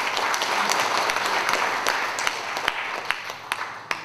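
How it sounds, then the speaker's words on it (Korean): Applause from the audience at a sixth-anniversary ceremony and book launch, a full round of clapping that gradually thins out into a few scattered, distinct claps near the end. "큰 박수 한번 보내주십시오"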